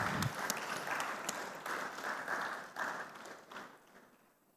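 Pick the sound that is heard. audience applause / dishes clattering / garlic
audience applause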